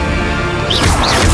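A fire spell strikes its target in Hogwarts Legacy, a loud whooshing impact with a crackling burst and rising swish over a dense rumbling game soundscape, lasting about a second.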